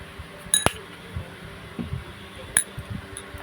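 Spoon clinking against a small dish while lemon, a pinch of turmeric and coconut oil are mixed, two sharp clinks separated by softer scraping taps, close and otherwise quiet.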